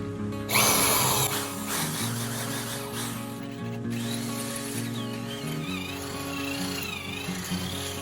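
A power drill boring a hole in a stainless steel e-bike motor cover, a continuous whining drone with a harsh grinding onset, close and steady for several seconds.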